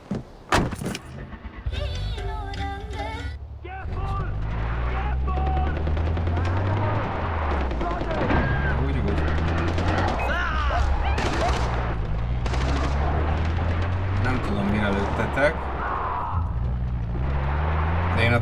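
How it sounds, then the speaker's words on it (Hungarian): Gunfire and a car engine in the video game Far Cry 4: a car engine drones steadily throughout, with bursts of gunshots and clattering effects layered over it at close range. "Lövöldözzetek nyugodtan."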